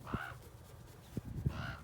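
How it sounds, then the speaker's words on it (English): Crows caw in a farm field where pigs are fed on a frosty morning, two harsh caws a little over a second apart, faint and distant among soft background knocks. "Get out of here, crows."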